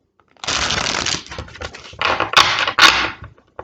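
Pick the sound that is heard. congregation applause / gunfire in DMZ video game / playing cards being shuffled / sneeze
playing cards being shuffled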